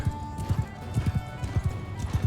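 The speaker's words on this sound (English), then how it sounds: "My guess is a horse took off running in this direction." A horse in the Mount & Blade II Bannerlord video game gallops, its hooves drumming in a steady, rapid rhythm of loud, close thuds throughout, with no speech over them.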